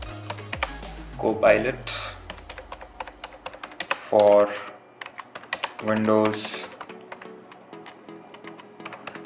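Keystrokes on a computer keyboard clatter in quick irregular bursts throughout, with someone speaking briefly in between and a few short chimes from the computer.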